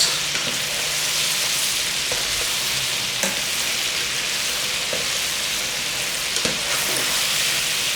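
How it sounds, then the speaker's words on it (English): Cantonese sesame ribs deep-frying in oil give a loud, steady crackling sizzle close by, with occasional sharper pops, and no voices. "while this is frying, I'm going to prepare the second batch"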